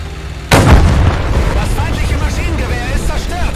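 Gunfire and artillery in the World War II strategy game Men of War II: one sudden loud blast erupts, then a rumbling, crackling tail of battle noise carries on and slowly fades.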